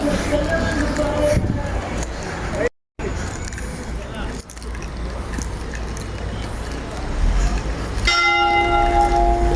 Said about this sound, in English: That's the bell at the church there.